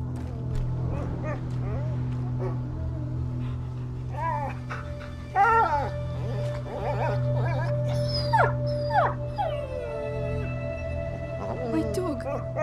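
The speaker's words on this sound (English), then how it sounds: "My dog!" A dog whimpers and lets out long wavering howls in the video game A Plague Tale: Innocence, several rising and falling whines over a steady low ambient drone, with voices talking at times.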